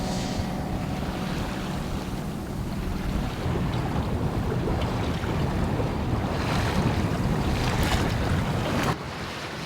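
A sailboat under engine power in wind near Istanbul, a steady low engine drone mixed with rushing water and microphone wind noise, continuous and loud throughout.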